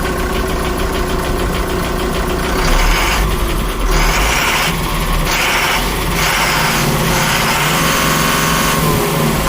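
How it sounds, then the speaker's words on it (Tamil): A 2018 Ashok Leyland 10-wheel, 32-foot container lorry with about 234,000 km on it runs its diesel engine loudly nearby, a steady heavy idle with repeated revving swells and a rough knocking clatter throughout. "வண்டியோட இன்ஜின் கண்டிஷன் காமிக்கிற பாருங்க, மிக மிக தெளிவாக இருக்கும்."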